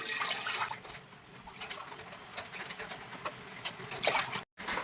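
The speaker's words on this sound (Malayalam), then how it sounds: "അതിലേക്ക് നമുക്ക് വെള്ളം ഒഴിച്ചു കൊടുക്കാം" A steady rush of water pours into a vessel, close by, with a brief break near the end.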